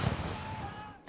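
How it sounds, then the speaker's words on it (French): Cannon salute fired at the foot of Tower Bridge in London for a royal birth, heard as a low, rumbling boom rolling out over a steady murmur, with a sharper thud near the end. "Les canons à ses pieds saluent son arrivée."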